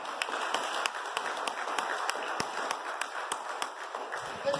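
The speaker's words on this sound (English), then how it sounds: "Give yourself a round of applause." Students at the launch of Haile Selassie High School applauding, a scattered mix of claps with a few sharp louder ones standing out from a busy room murmur.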